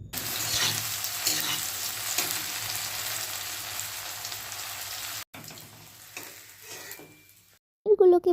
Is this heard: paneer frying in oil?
yes